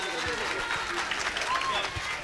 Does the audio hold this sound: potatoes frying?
no